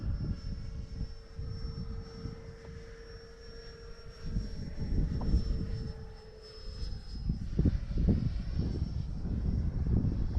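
An FMS Futura V3 RC model jet flies slowly past into strong wind with its landing gear down, a thin whining engine tone over heavy gusty wind noise.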